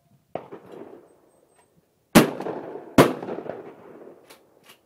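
Target shooting outdoors: one sharp gunshot followed by two louder cracks less than a second apart, each with a short echoing tail, and faint clatter between.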